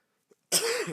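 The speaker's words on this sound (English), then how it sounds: "I keep coughing now." A single short, harsh cough up close, preceded by a tiny click, with silence before it.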